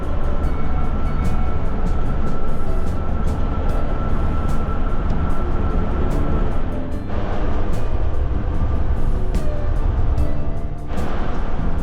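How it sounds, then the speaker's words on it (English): A long double-decker freight train rolls past close by, a continuous heavy rumble with repeated clacks of wheels over rail joints, steady throughout. "These long freight trains, double-decker freight trains, are amazing."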